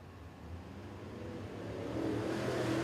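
Late Model Sportsman race cars accelerate together on a restart at a NASCAR weekend night race. Their engines form a blended roar that swells steadily louder as the pack picks up speed.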